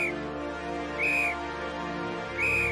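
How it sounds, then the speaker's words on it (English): Faint whistle blasts from somewhere in still night woods, two drawn-out high tones spaced apart and well in the distance over a low steady background hum, with no talking. "Another faint 3-blast whistle,"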